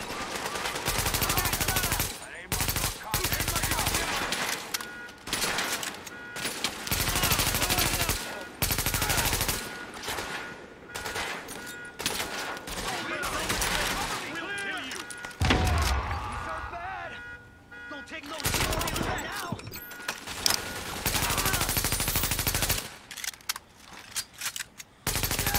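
Rapid gunfire bursts in the video game The Division, loud automatic fire in repeated volleys with short gaps, mixed with in-game announcer speech and battle noise.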